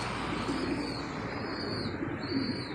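Pigeons coo softly in a low, repeated rhythm, close by and steady, against a constant hiss of background noise with no talking.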